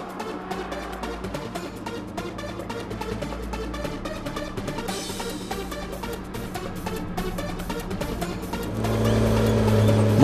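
A Tigercat E625C six-wheel drive skidder working in a forestry harvesting operation, with a steady diesel engine drone and mechanical clatter. The engine grows louder and deeper near the end.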